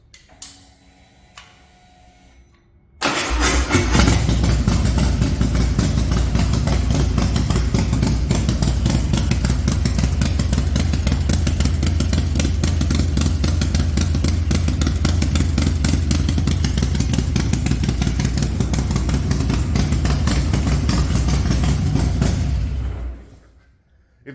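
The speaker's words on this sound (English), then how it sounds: "I'll give you the cold start. So this is the first start up, no tune, just we'll hear how it sounds." A motorcycle engine with newly installed high-lift clutch springs starts cold for the first time with no tune, then idles loudly and steadily with a rapid ticking pulse for about twenty seconds before shutting off.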